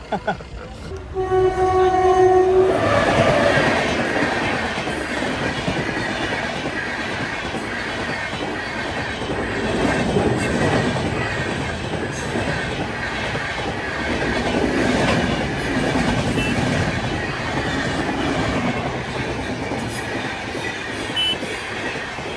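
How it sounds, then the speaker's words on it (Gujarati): At a closed railway level crossing, a train horn blares briefly, then a long loud rumble of the train rolling past with rhythmic clickety-clack of wheels, sustained close by. "ફાટક બંધ છે બી ટ્રેન આવશે"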